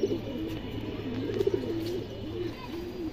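Silver Makra pigeons offered for sale coo in soft, rolling low calls, repeated throughout at close range over a faint steady hum, with no voices.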